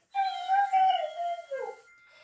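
A drawn-out, high whining whimper from a dog, wavering and falling in pitch, close and fairly loud, with no talking.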